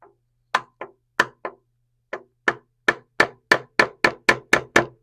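A rounded chisel is tapped with a mallet to break the glue seal on wood plugs in a chair under repair: about fourteen crisp, close knocks, sparse at first, then a quickening, evenly spaced run.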